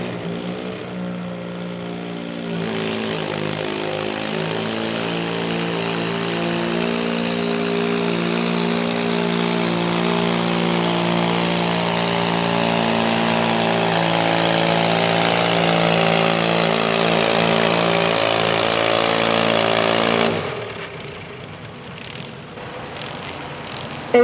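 A factory twin-class garden tractor engine roars loud and steady for about eighteen seconds during a tractor pull at Steam O Rama in Windsor, PA, building slightly before cutting off, with no talk over it.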